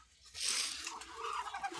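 Pankiraj ducks just let out of their pen squawk in a brief, harsh burst, fairly faint and somewhat distant, with light rustling around them and no talking.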